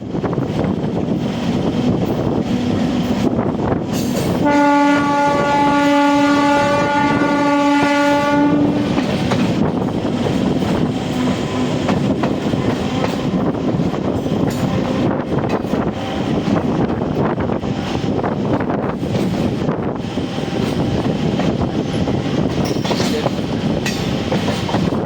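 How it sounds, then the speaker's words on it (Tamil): An Indian Railways MEMU passenger train runs from Trichy to Villupuram, with a loud, continuous rumble of wheels and carriages and a sustained horn blast early on, heard from on board. "ஸோ ட்ரெயின் ஏர்லியராக வந்துட்டு இருக்கு."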